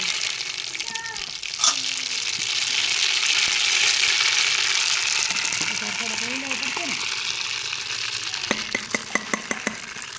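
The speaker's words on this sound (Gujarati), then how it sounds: "આપણે એનો વઘાર કરી નાખીએ." Mustard seeds, cumin and sesame seeds sizzle steadily in hot oil over a village cookstove, with a constant hiss and some low rumbling. Scattered sharp pops come near the end.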